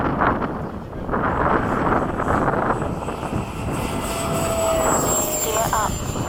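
A BAE Hawk jet trainer spools up for takeoff, a loud, steady roar with a rising whine and wind rush, while cockpit voices talk intermittently.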